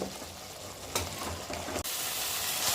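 Tomato and chili powder masala for an ennai kathirikai (oil brinjal) kuzhambu sizzles steadily in a pan, a dense close frying hiss with a couple of brief stirring scrapes, no voices.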